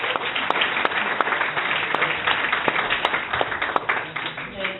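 Applause from an audience at a startup pitch event in a coworking space, with individual claps standing out sharply within a lively, uneven burst of clapping.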